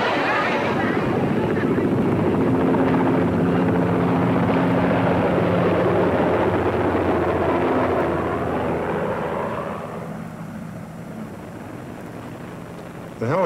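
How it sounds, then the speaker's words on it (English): A steady, loud rotor roar fills the whole stretch, easing off slightly near the end. "The helicopters landed on the carriers, and there was no space."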